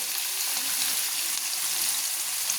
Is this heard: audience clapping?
no